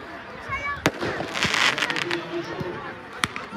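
Fireworks burst at an outdoor gathering during a Morocco–Guinea community football tournament in Aulnay, with several sharp bangs and crackles standing out over steady crowd noise and people talking nearby.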